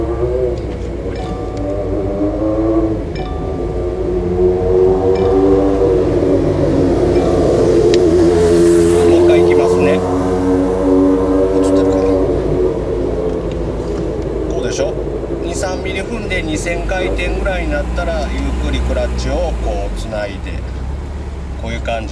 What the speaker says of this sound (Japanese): 2-3mm ぐらい踏んで2000回転になったらこうやってゆっくりクラッチつなぐんですよ